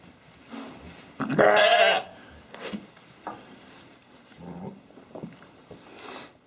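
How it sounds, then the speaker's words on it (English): A sheep gives one loud, close bleat, followed by quieter shuffling and a few soft animal sounds. "Number one is one of the friendlier sheep."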